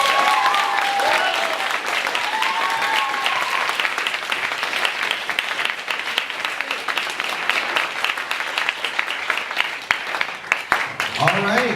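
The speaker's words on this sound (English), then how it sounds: "Let me give it up one more time, a round of applause for all 18 students." An audience gives a round of applause for the students of a coding bootcamp in Shanghai, a dense, steady clapping that runs the whole stretch without pause.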